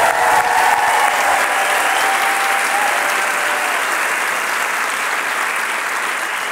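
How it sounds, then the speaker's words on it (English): Loud, sustained applause from a large audience at a main-stage keynote, a dense even roar of clapping that holds steady for several seconds with a hint of crowd noise. "Could we have one round of applause for everyone who is in the video?"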